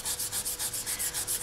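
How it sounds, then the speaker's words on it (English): Wet 800-grit sandpaper rubs rhythmically over polymer clay earrings, about a dozen quick strokes, faint and close with no talk. "I want you to be working with wet sandpaper, and I'm going to start with a 800 grit."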